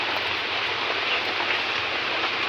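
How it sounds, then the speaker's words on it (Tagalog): Heavy rain pouring steadily along a roadside, a dense, continuous hiss of water that stays loud and unbroken throughout. "Lumakas na yung ulan mga kagwang"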